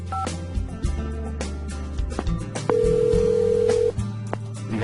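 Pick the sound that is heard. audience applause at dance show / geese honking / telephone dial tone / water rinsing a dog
telephone dial tone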